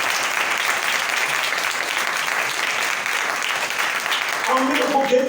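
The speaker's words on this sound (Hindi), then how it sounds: "जोरदार तालियां बजाएं खुदावंद के लिए।" Church congregation applauding in praise, a dense, steady wash of clapping from many hands filling the room, with some voices mixed in toward the end.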